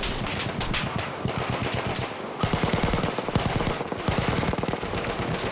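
Rapid bursts of MG15 machine gun fire in a video game, loud and close, with several stuttering volleys and brief pauses between them.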